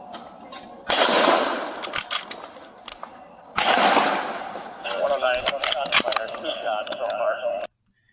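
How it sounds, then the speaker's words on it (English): Gunshots from a bolt action rifle during a police standoff, two loud broadband blasts about three seconds apart with ringing tails, followed by a stretch of clicking, clinking handling noise and faint voices in the background. "that, boys and girls, is what you call a bolt action rifle"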